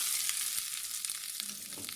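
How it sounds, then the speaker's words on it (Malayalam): Grated coconut roasts in a pan over a low flame, giving a soft, steady hiss with faint crackles throughout a brief stretch, and no one speaking. "ഇത് ഇനി ഒരു ലൈറ്റ് ബ്രൗൺ കളറാകുന്നത് വരെ നമുക്കൊന്ന് ഇളം തീയിൽ വറുത്തെടുക്കാം"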